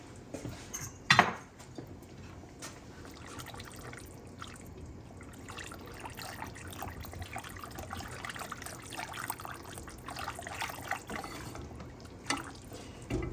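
Water running and dripping as a ceramic Crockpot casserole crock is rinsed at a sink, with light clinks of the dish against the basin and a sharper knock early on, fairly quiet throughout.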